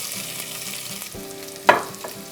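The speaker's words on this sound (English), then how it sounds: "Nice sizzle." Steady oily sizzle of onions and carrots frying in a pan, with a sharp clatter of a utensil partway through and no voices.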